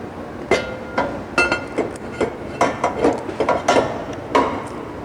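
Pump barrel being fitted and clamped onto the block of a manual fill pump with a gasket, giving a series of sharp wooden and metallic knocks and clinks at an irregular rhythm, close and fairly loud.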